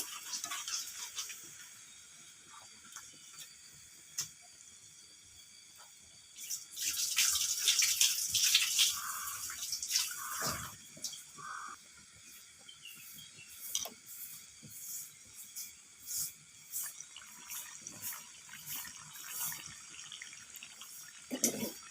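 Poa pitha fries in hot oil sprinkled over it from above, giving a quiet, steady sizzle with a louder burst of crackling in the middle and scattered pops afterward.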